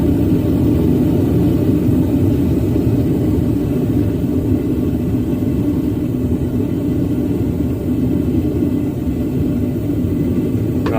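A gas forge burner being turned down, a steady loud low roar that holds throughout with only a subtle shift in tone toward the end, no voices over it.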